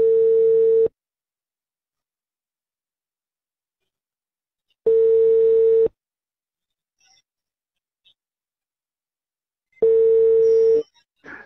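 An outgoing telephone call produces a steady single-pitch ringback tone in three evenly spaced bursts about a second long, separated by silence, clear and alone.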